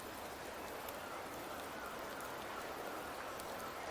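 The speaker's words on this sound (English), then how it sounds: "The rains in Septimont never seem eager to leave this season." Steady rain pours in the Septimont region of the video game Wuthering Waves, a continuous even hiss of falling drops with no voices, constant and fairly close throughout.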